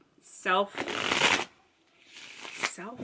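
Tarot cards shuffled by hand for a reading, crisp riffling bursts coming in two close passes, with a voice speaking briefly between and over them.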